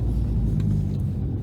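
A car idles with its exhaust cutout open, bypassing the mufflers, giving a loud, steady, deep rumble with slight uneven pulsing and no revs.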